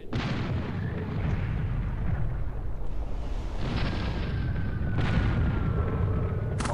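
Rockets and cannon fire from airship combat in the game Air Buccaneers make a dense, continuous booming rumble with overlapping blasts. No one speaks.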